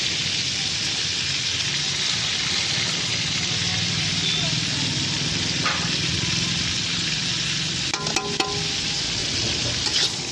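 Nigella seeds and a little whole cumin sizzling steadily in hot oil in a pan for a Bengali dish of raw prawns with ash gourd, a continuous dense frying hiss with faint stirring clinks near the end.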